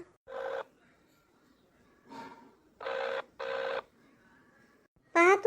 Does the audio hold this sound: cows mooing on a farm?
no